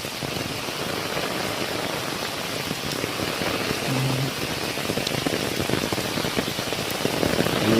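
Monsoon rain pours down steadily on a village, a dense, constant hiss of drops hitting surfaces nearby with no pauses, fairly loud and without voices.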